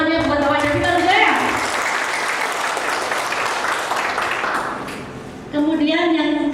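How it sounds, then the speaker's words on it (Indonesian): Audience applause at an Indonesian company championship event, a broad steady wash of clapping lasting several seconds, with a voice speaking over its start and again as it fades out. "Tepuk tangannya buat Bapak kita ya."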